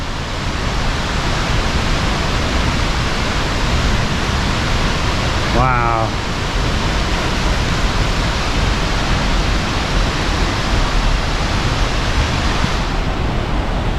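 Franklin Falls in Snoqualmie Pass, a heavy waterfall, roars as a loud steady wash of rushing water throughout, with a brief exclaiming voice heard over it near the middle.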